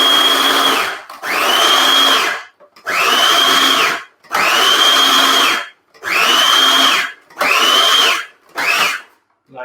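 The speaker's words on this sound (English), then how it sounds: "I like to use a mixture of vegetable in the food processor because for some reason it cuts a little bit better." A food processor chops a mix of vegetables for a lentil, ricotta and spinach lasagne in six or seven loud pulsed bursts, each about a second long and separated by short pauses, with the final pulses shorter.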